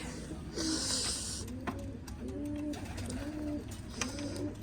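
Pigeons coo in a soft repeated rhythm on a rooftop loft, several low throaty calls in a row, with a brief hiss of splashing water early on.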